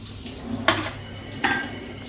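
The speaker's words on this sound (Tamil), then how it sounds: "நீ வந்து இந்த பாத்திரத்தை கழுவி முடிச்சுட்டு" Pots, pans and dishes being washed in a home kitchen, with two sharp clanks of metal against metal standing out over a steady rush of water and faint background clatter.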